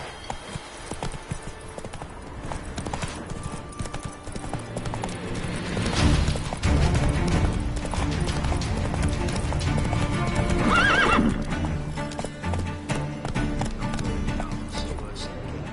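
Roach, the horse in The Witcher 3 game, gallops with a loud, rapid clip-clop of hooves and gives a couple of clear neighs, with talk over the hoofbeats.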